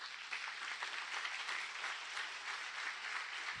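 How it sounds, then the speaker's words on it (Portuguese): Steady, dense applause from a large church congregation, loud and continuous throughout with no pauses. "Aplauda bem forte ao Senhor."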